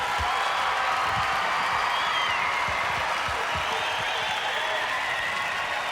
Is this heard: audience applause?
yes